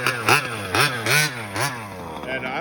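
Small Zenoa G32 two-stroke engine fitted with a Rovan pipe, revved in several quick rising blips that then settle to a steady buzzing run, close and loud with a raspy whine.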